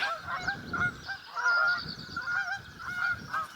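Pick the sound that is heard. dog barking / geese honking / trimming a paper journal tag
geese honking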